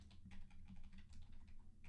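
Someone types a prompt on a computer keyboard, a quick run of soft, close key clicks in a steady rhythm at low volume, with no talking.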